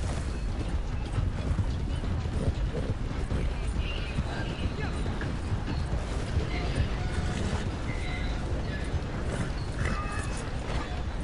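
Horse hooves clip-clop along with mechanical clanking in a busy scene near a bridge, a steady clattering rhythm under loud, continuous background noise.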